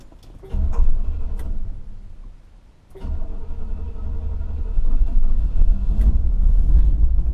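A 1970 Buick Riviera engine cranks and catches, briefly dies, then starts again and settles into a loud, steady rumbling idle up close.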